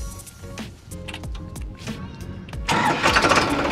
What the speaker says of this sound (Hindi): चलो ट्रैक्टर को स्टार्ट करो।